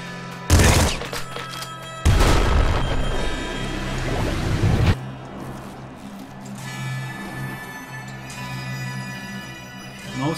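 Loud, close shotgun blasts in the video game Nuclear Throne: one sharp shot, then a dense rattling barrage lasting a few seconds, which fades into a quieter game backdrop.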